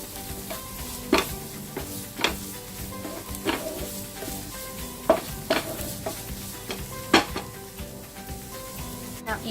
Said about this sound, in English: Just give it a good mix. We just cook it for another 3 more minutes.